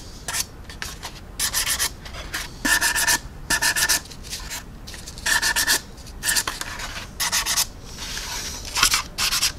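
Paint being rubbed and sanded down on a 1/48 scale Meng F/A-18E plastic model, close by: bursts of short, raspy strokes in quick runs with brief pauses between them, with no voices.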